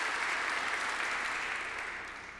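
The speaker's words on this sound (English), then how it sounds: "I'm told that giving a round of applause is what you do when someone saves your life" A banquet-room audience at an annual charity breakfast claps steadily, a dense moderate wash of applause that fades gently over a couple of seconds.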